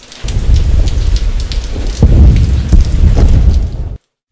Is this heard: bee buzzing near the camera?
no